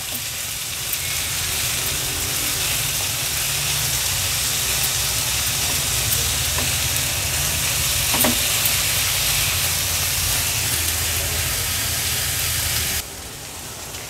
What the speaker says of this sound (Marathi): ही कोलंबी जी आपण फाइनली चॉप करून घेतली आहे ती ॲड करूया आणि व्यवस्थित कांद्या आणि हळदी सोबत आपल्याला ही परतून घ्यायची आहे